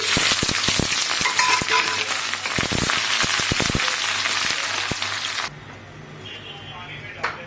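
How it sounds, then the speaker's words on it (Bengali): Sliced onions drop into hot white oil with a loud, dense sizzle and crackle, punctuated by stirring knocks, before the frying noise abruptly drops away to a quiet background. "তেল গরম হয়ে গেছে পেঁয়াজগুলো দিয়ে দিচ্ছি"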